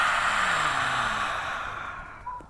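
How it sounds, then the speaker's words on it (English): An audible open-mouthed exhale during yoga breathing: one long, breathy sigh that starts strong and fades out over a couple of seconds, close and alone without speech. "Now on your exhale, open your mouth. Audible exhale."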